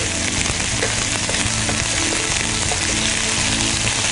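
Ginger garlic paste sautés in hot oil with a loud, dense, continuous sizzle and faint crackle throughout, close and unbroken.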